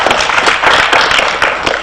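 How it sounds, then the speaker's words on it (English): A large crowd at an independence and NRM victory celebrations tournament event claps in steady, dense applause, loud and close, with no speech over it. "I think you deserve a very big clap"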